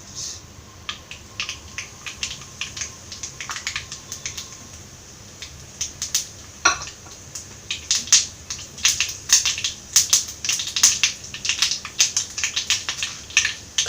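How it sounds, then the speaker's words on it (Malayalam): Mustard seeds popping and crackling in hot coconut oil during Kerala-style fish curry preparation; sharp, scattered pops that start sparse and grow denser and louder toward the end, with no one talking. "എണ്ണ ചൂടായി വരുമ്പോൾ ഇതിലേക്ക് കടുക് ഇട്ട് കൊടുക്കാം"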